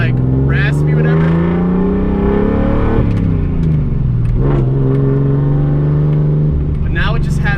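A deep, throaty big-turbo RB engine in a 240SX with straight pipe exhaust revs and rumbles continuously, rising and falling with a rough, aggressive exhaust note close to the microphone.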